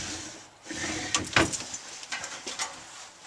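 Drawers slide open and shut in an Arctic Fox 1150 camper with soft wooden rumbles and a sharp clack, several movements close by.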